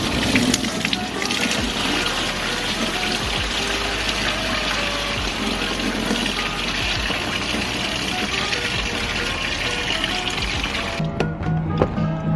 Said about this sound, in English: So we got the radiator and water drained out.